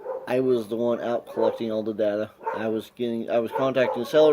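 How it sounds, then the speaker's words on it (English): Dogs bark in the background of a home while a person talks continuously in the foreground, the barks mixed underneath the speech. "pardon my dogs are barking in the background"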